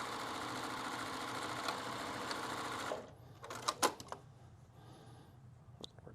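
A sewing machine stitches fabric for a fabric balloon ball in a rapid, steady mechanical whir that runs for about three seconds and then stops. A few clicks and knocks follow as it settles into near quiet.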